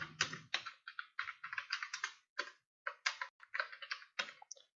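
Rapid, irregular clicking of computer keyboard keys as code is typed, close and fairly quiet, in short bursts with brief pauses.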